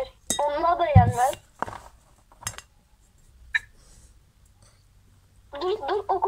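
Fork and spoon clinking against dishes during a meal, a few sharp metallic taps and scrapes scattered between stretches of nearby talk and quiet.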